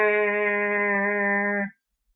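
A voice imitates tinnitus ringing in the ear, holding one steady, harmonically rich hum close up for under two seconds before it cuts off into silence.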